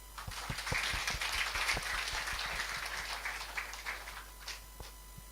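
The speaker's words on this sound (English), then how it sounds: "Let us give a big round of applause once again" Audience applause after a university rector's opening remarks at a national English speech contest, a dense, steady wash of many hands clapping that holds for several seconds.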